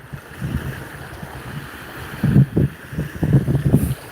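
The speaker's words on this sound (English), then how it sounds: "The waves just coming up over the sand." Small waves wash up over sand on a lake shore at the Indiana Dunes, a low rolling murmur that swells in soft surges under steady wind, with no talk.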